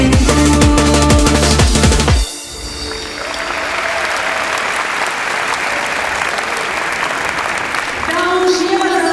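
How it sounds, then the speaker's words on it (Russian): A concert audience applauds after a song at a music awards show, steady loud clapping filling most of the stretch as the music cuts off abruptly, with a slight swell near the end. "еще раз ваши аплодисменты"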